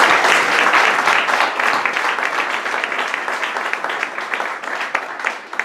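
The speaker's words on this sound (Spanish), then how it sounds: "quiero que demos un aplauso a Irene, que está ahí detrás calladita y tocando sus teclas" An audience at a poetry performance applauds the keyboard player Irene, steady full clapping that stays loud and gradually tapers over several seconds.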